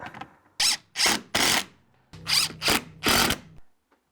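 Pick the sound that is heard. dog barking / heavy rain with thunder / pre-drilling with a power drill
pre-drilling with a power drill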